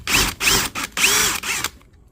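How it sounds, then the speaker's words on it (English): A power drill boring out rivets on an Argo 750HDi 8x8 amphibious vehicle, with four loud, close bursts of whining, grinding drilling separated by short gaps before it falls quiet. "There are 73 rivets to drill out,"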